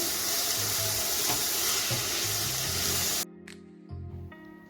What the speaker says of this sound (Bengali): এখন অনবরত নেড়ে চেড়ে আমি ফুলটাকে ভেজে নেব